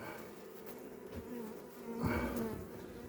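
Honey bees swarm and buzz close by during a hive cut-out, a steady droning hum that swells louder near the end, with no talking.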